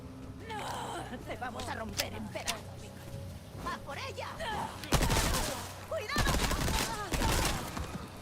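Video game gunfire, a machine gun among the weapons, with sharp scattered shots early, then heavy sustained bursts of rapid fire in the second half, alongside effects and a voice talking over it.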